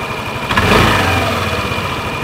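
A Yamaha Lexi scooter engine with a battery-draining fault idles close by, a brief swell early on before the revs sag into a steady, low, loud running note that sounds near stalling.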